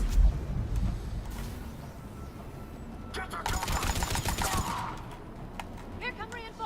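Bursts of gunfire crackle through a firefight in the Mass Effect 3 video game, with rapid automatic volleys clustering in the middle over a constant rumbling backdrop, fairly loud and close.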